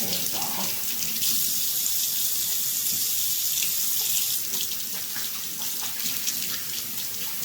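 Tap water runs steadily into a kitchen sink while hands are rinsed after shaping homemade biscuits, a close, continuous hissing splash with slight shifts in flow and no speech.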